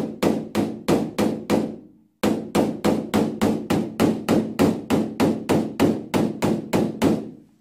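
Rapid, evenly spaced metallic taps from a PDR knockdown tool working a dent out of a Korean car's body panel, close and crisp, in two bursts separated by a brief pause.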